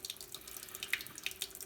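Soapy water with a dab of Dawn dish soap sloshes inside a bottle during cleaning, producing a soft, steady run of liquid splashes and small gurgles up close, with no talking.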